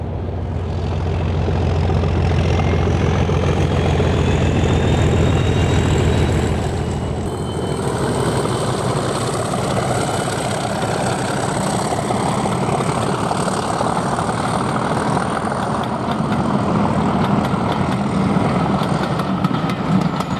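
Class 37 diesel locomotive 37263 opened up and accelerating hard away from Bank Farm on a heritage railway, a loud, sustained engine roar that stays strong throughout, shifting character partway as it pulls away.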